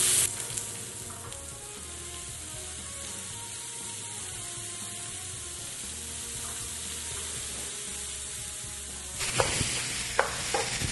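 Onions sweat in a pan with a quiet, steady sizzle that holds evenly for several seconds, then a few louder stirring scrapes come in near the end.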